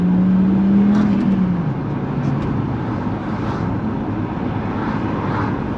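A 2.5-litre turbo Ford Mondeo engine drones loudly from inside the car while driving into a 60 zone, a steady close hum with a low tone that slides downward early on before settling into constant road and engine noise.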